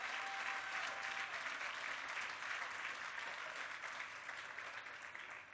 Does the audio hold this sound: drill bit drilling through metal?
no